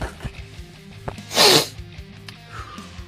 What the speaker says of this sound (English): Ruined by the sneeze.